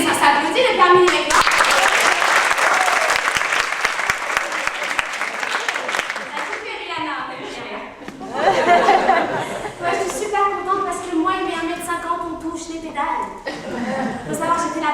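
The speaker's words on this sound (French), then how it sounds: "Mais ça s'applaudit, le permis" Applause from a talent show audience, loud and dense at first, then fading into chatter and scattered laughter as a performer's voice returns over it.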